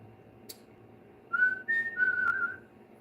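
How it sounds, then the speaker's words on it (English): A person whistles a few short, clear tones, rising slightly then holding a longer note, against a quiet background after a faint click. "See how I'm whistling?"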